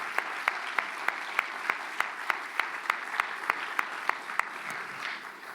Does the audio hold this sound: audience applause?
yes